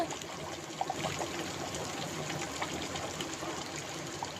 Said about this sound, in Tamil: நல்லா குழம்பு கொதிச்சிருச்சு ஸ்லோவாக வச்சுட்டேன் அடுப்பை